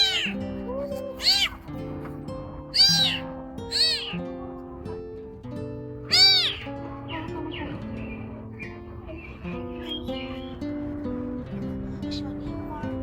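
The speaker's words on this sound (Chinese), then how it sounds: "这是什么小猫啊？" A tiny stray tabby kitten, eyes not yet open, found beside a rubbish bin, gives a series of thin, high meows, five or six distinct cries spread out over soft background music.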